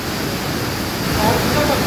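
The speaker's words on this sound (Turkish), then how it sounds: "İşte Galyamaç şelalesi." Steady broadband rush of the Galgamaç waterfall in Kahramanmaraş, heard close and fairly loud as a continuous wash of falling water, alone with no voices.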